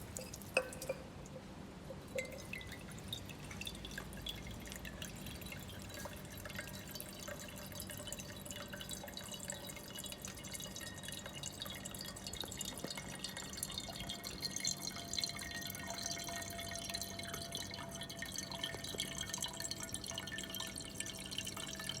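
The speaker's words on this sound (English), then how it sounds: "we will take 500 ml of water in the beaker and measure the time it takes" Tap water pouring steadily into a 500 ml beaker during a groundwater flow experiment, a continuous close trickling and splashing stream heard alone for about twenty seconds.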